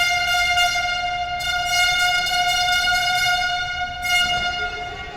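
Team supporters blow a loud, sustained air horn at a PYCL semi-final match, one long steady blast with a brief dip partway, filling the space alone.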